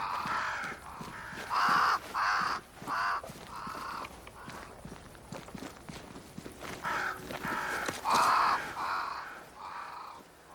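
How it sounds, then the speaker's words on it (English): Crows cawing in a video game near a great tree where they flock, repeated harsh caws in bursts over a faint ambient bed with light footstep-like ticks. "Crows. They flock to that great tree up there."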